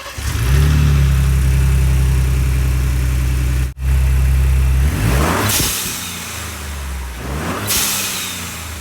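A Ford Bronco with a Cobb cold air intake idles loudly up close, a deep steady rumble that dips briefly, then revs twice with rising whooshing intake sound between settling returns.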